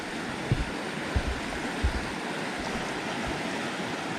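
A creek flows steadily beside a walking trail along the Manistee River, a constant broadband rush of water with a few soft thumps, no voices.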